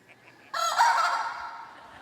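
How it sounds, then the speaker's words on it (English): A rooster's cock-a-doodle-doo crow played from a recording starts abruptly after a short quiet lead-in, then one long, loud call trails off gradually. "cock-a-doodle-doo!"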